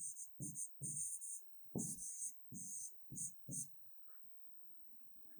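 Pen or pencil writing a list of materials on paper, several short scratchy strokes in quick bursts, close and fairly loud, with soft breathing and low murmuring in between.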